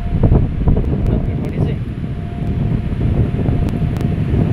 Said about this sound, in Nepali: मिठो हावा पनि आइरहेछ अहिले यता चाहिँ